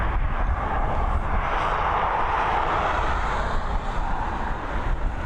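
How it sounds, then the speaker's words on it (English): FedEx Boeing 767 jet departing from runway 10R at Dublin Airport, a steady broadband engine roar and rush heard from a distance, constant in level throughout with wind noise on the microphone. "this Boeing 767 now on departure"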